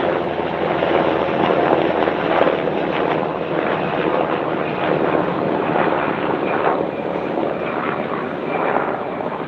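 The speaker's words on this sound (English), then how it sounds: "I don't know why this helicopter's here." A helicopter passes overhead outdoors, a steady loud rotor and engine roar with wind buffeting that holds evenly throughout, with no voices.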